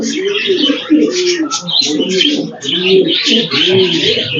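Several pigeons coo steadily and close by, soft throaty calls overlapping in a continuous murmur with a few higher chirps above.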